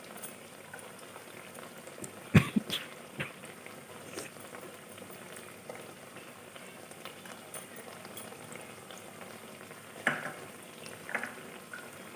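Green peas and bread pieces frying in a pan over medium heat for a vegetarian snack, a steady soft bubbling sizzle with a couple of louder clatters near the start and again later, no voices.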